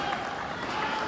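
A badminton arena crowd at an Indian league match cheers and applauds for their home player, a steady dense wash of clapping and voices filling the whole moment.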